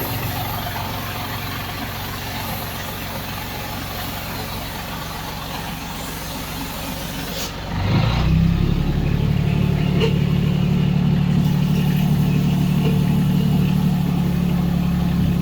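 A Challenger MT265B tractor engine shifts into a higher gear. A steady running drone gives way partway through to a louder, deeper, heavier engine note that holds strong and close to the end, with no talk.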